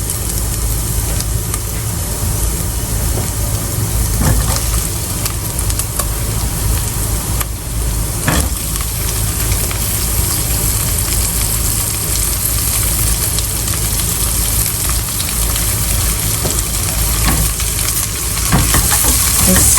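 Zucchini and browning Lithuanian kotletai with softened onions sizzle steadily in a pan, a continuous loud frying hiss with occasional stirring scrapes throughout.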